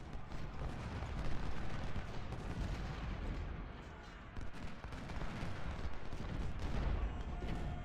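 Massed gunfire and artillery from a Civil War battle in the game Ultimate General: Civil War, a dense, continuous roar of volleys and booms that stays loud for the whole stretch, with a voice talking over it.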